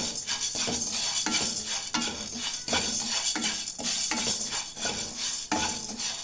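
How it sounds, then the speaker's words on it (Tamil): Chana dal dry-roasting on a tawa over a low flame, stirred in a steady rhythm of scraping, rattling strokes with a faint sizzle underneath, close up and with no voices. "இப்போ நம்ம இந்த கடலைப்பருப்பை நல்லா தவாவில் நல்லா சூடு பண்ணலாம்."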